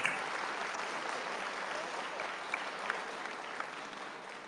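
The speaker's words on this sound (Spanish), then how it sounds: "me está aplaudiendo allá una compañera" Steady clapping rings out from a political rally audience in Cuautitlán, Jalisco, a dense even patter of many hands heard at a distance, holding constant for several seconds with no talk over it.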